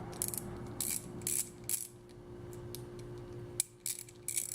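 An older USA-made raised-panel Craftsman 43186 ratchet gives rapid, close bursts of crisp metallic clicking, several short runs separated by brief pauses.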